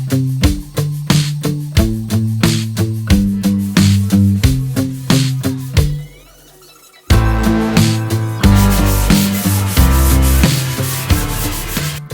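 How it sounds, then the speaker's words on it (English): Rhythmic rubbing strokes of sandpaper on painted wood between coats, on a farmhouse table, repeat steadily and loudly, pause briefly, then resume in a denser, rougher pattern. "sanding in between coats to make sure that we had a really nice smooth finish"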